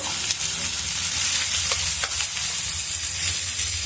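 Ridge gourd chutney with curry leaves sizzles and fries steadily in a pan, a loud, continuous crackle with soft stirring scrapes throughout.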